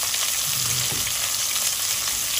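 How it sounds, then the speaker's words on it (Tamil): Sliced onions frying with salt in a pan for prawn biryani, a steady close sizzle with a brief stir partway through. "கொஞ்சமாக இப்போ உப்பு சேர்த்துக்கிறேன் வெங்காயம் வதங்குறதுக்கு."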